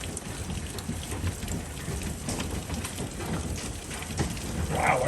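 Dense, steady patter of hail pelting a surface during a storm, a constant rattling hiss with scattered sharper hits, no voices.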